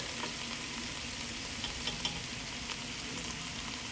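Whitetail venison from South Texas fries in a pan for corned venison hash, giving off a steady, close, even sizzle with small crackles throughout and no voices.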